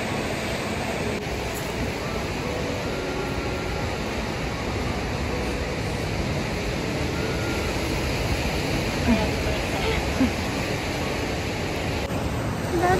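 Big ocean waves roll in continuously at Watu Karung beach in Pacitan, a loud, steady roar of surf filling the whole stretch without a break.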